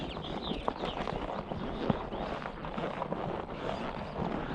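Hooves of a barefoot horse on a road, ridden at a walk and trot, clopping steadily and fairly close under wind and outdoor noise.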